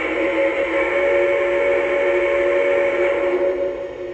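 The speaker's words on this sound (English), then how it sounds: "you are going to test out all the whistles" A loud, sustained steam-style whistle blows continuously for several seconds from a Lionel Brass Hybrid Union Pacific Challenger model train, its chord-like tone fading slightly at the end.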